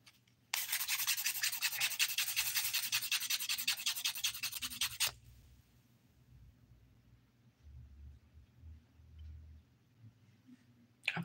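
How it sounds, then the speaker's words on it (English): Fingernails are buffed with a nail buffer in one dense, rapid stretch of close, scratchy rubbing strokes lasting about four seconds, followed by quiet handling noises. "just gonna quickly buff the nails"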